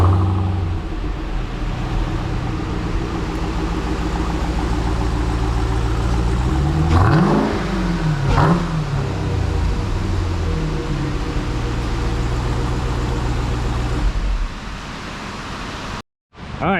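Jeep Trackhawk with a GT Haus exhaust at idle, a loud steady rumbling drone that swells through two quick revs around the middle, each rising and falling in pitch, before settling back and cutting off abruptly.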